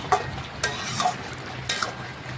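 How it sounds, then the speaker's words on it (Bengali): Stirring bottle gourd in a pan to cook off its water, with a spoon scraping and clinking against the pan in several distinct strokes over a soft steady sizzle. "এইভাবে নাড়াচাড়া করতে করতে জলটা আমাকে শুকিয়ে নিতে হবে।"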